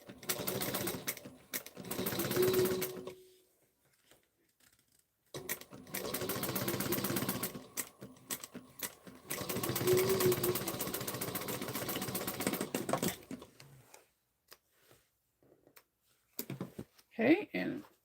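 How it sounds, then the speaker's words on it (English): A sewing machine back stitches over a key fob while sewing a bag, running in three long bursts separated by pauses, with quieter talk in between. "I'm going to back stitch over the key fob."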